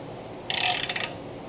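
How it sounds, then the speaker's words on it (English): Ratchet with a 12-point socket turning on a kingpin of an early Ford front suspension, a short burst of quick metallic clicks, close and fairly faint, in an otherwise quiet space. "So all we're going to do is just slowly push down lightly and ratchet it as we go."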